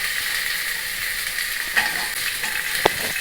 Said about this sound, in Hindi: अल्प टिके ब्राउन कलर आसवा पर्यंत भाजुवा